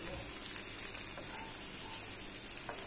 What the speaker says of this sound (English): because I have to fry them now. So I just let them shallow fry them